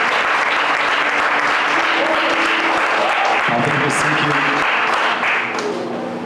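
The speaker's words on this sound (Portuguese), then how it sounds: "uma linda salva de palmas para aquele que é digno de toda a honra" Church congregation applauding during a worship service, a loud, dense, sustained wave of clapping from a large crowd, with voices speaking over it and the clapping tapering slightly at the end.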